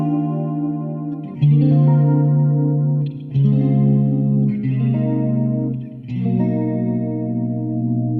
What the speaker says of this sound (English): Why not add some chorus?